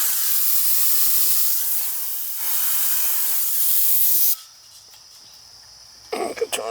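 Loud, close hiss of refrigerant purged from an old central air conditioning line, a steady bright rush lasting about four seconds before stopping abruptly, followed by low hum and a short burst of talk.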